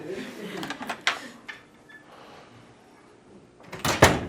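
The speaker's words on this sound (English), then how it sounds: "May I close this door temporarily?" A door is closed in a university lecture room, a few bumps and clicks followed later by a louder thump and rattle, with room noise in between.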